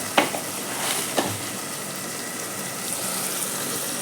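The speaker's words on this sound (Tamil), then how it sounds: "இப்போ தக்காளியை சேர்த்துட்டேன்." Tomatoes fry in a pan as the base of a chicken gravy, a soft, steady sizzle heard up close with a couple of brief clinks near the start.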